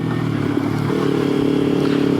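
A motorcycle ridden at a relaxed pace, its engine a steady, continuous drone close by with a slight shift in pitch partway through, plus faint rattle and wind noise and no talking.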